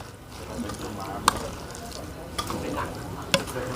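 A spoon stirs a bowl of Thai pork noodle soup loaded with noodles, pork and home-roasted peanuts, with a few sharp clinks against the bowl over a low, steady background.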